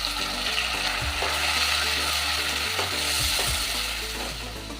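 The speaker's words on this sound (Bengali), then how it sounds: "পেঁয়াজ বাটাটার ভালো গন্ধ বেরিয়ে গেছে, খুব ভালো করে ভাজা হয়ে গেছে" Onion and garlic paste frying in a pan for a spicy prawn and potato curry, a steady close sizzle with occasional scraping stir strokes and no talk.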